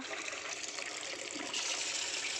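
Water runs from a tap in a steady, faint hiss and gush that holds evenly, then grows slightly fuller partway through, with no voices.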